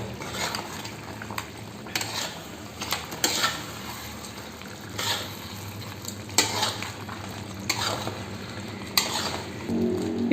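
A spoon scrapes rhythmically through spicy crab gravy in a pan, the strokes repeating every second or so over a steady bubbling sizzle, close and with no one talking.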